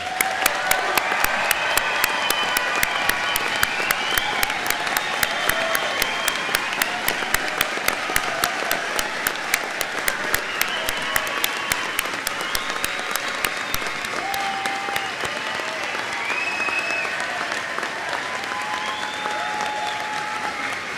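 Commencement crowd at the University of North Georgia Gainesville applauds the graduating class: sustained, loud clapping from a large audience that continues steadily and fades slightly toward the end.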